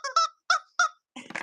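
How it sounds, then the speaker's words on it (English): A squeaky toy is squeezed in a few short, sharp squeaks with pauses between, close and fairly quiet, followed by a brief rougher rustle. "We can squeak this one."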